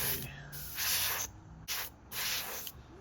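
Short bursts of spray paint hissing from a can onto a Tamiya 1/48 F-14A model aircraft kit, about four sprays separated by brief pauses, close and sharp.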